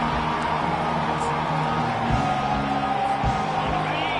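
A home crowd at an NC State football game roars as the defense faces third down, a dense, steady wash of distant cheering and whoops filling the stadium, with a commentator talking over it.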